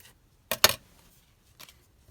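Scissors snip through paper while trimming a lacy paper craft piece: two quick, close crisp cuts, then a softer single snip a second later, in an otherwise quiet room.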